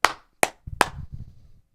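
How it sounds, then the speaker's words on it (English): A few sharp, close hand claps from a small group at a live show during a shot-ski toast, three distinct loud claps followed by softer scattered patting that trails off. "Little applause."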